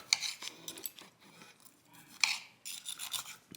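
A knife saws through a cooked New York strip steak on a plate, with repeated scraping, rasping strokes and small clinks of metal on china. The cutting is close and quiet and comes in uneven bursts with no voices.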